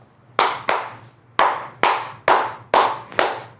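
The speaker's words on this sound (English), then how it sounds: "I don't know why I'm clapping." Seven sharp hand claps in a loose, uneven rhythm, close and alone, each with a short fading tail.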